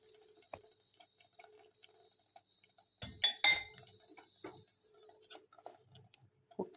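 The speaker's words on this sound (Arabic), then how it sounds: "وهنجيب دلوقتي نص ليمونه ونعصرها على الخليط بتاعنا" Half a lemon is squeezed over a milk-candy mixture, with soft drips and a few light glassy clinks in a quiet kitchen, clustered in a short burst midway.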